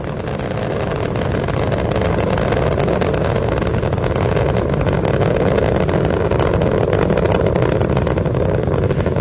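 A continuous, heavy roar of Space Shuttle Endeavour's three liquid-fuel main engines during launch, throttling back, broad and rumbling, holding steady and loud throughout without a break.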